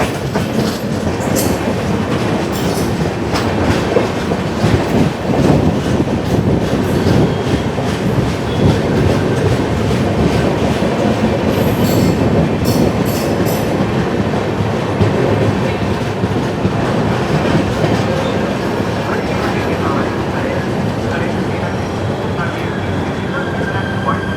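The 12702 Hussainsagar Express passenger train runs on rails between Hyderabad and Mumbai, near Begumpet. A loud, steady rumble of wheels and carriages carries a continuous clickety-clack throughout, with occasional higher screeches.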